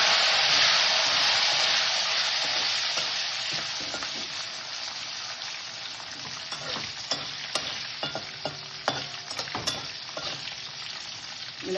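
Green and dried red chillies fry in hot oil with chana dal, urad dal and fenugreek seeds, giving a loud, close, steady sizzle that eases slightly over time, broken by scraping and stirring clinks.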